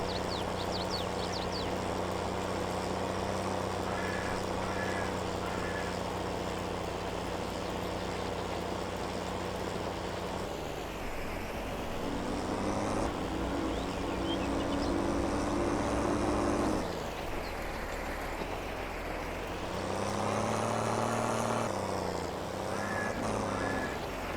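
A tractor in Farming Simulator 22, pulling a cultivator, drones steadily with a loud continuous engine hum that rises and falls in pitch as it strains and picks up speed, with no talking.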